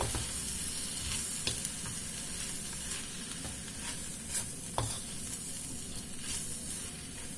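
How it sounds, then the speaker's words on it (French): Chicken stir-fry sizzles steadily in a wok with sauce while being stirred, a continuous close hiss broken by occasional scraping clinks of the utensil against the pan, with no voices. "Et je vais continuer de mélanger."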